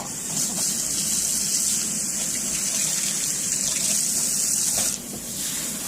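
Steady rushing water runs continuously, like a tap or hose filling a tub for a dog's bath, fairly loud and unbroken, easing slightly near the end.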